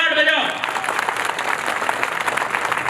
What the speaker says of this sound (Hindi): तालियों की गड़गड़ाहट बजाओ।